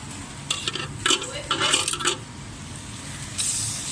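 Beef going into a pan for a stir-fry with bitter bile makes a cluster of clattering, scraping stirs and soft sizzling bursts, close and moderate, followed by a steady hiss.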